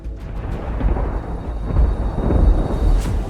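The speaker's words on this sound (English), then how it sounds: "all of a sudden, you heard that thunderclap" A thunderclap during a storm near Joplin, Missouri, rolling as a deep loud rumble that swells twice and lingers, with no voices.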